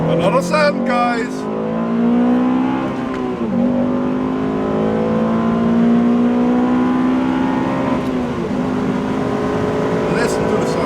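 Exhaust of a 2008 Honda Civic Type R FN2 under hard acceleration, a loud, steady rising engine note climbing through the revs with a brief dip at a gear change, heard close from inside the car.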